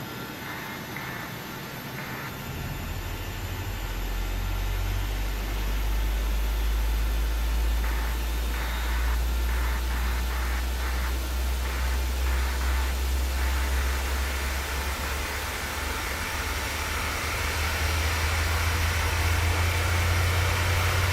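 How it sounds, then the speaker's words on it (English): A PMDG 737-800 airliner in Microsoft Flight Simulator spinning up its number 2 engine, a low rumble rising early and holding steady under a constant hiss, with faint repeated cockpit tones in between. "let's start engine number 2"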